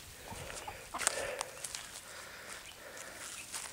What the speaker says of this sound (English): 4 hens and 2 roosters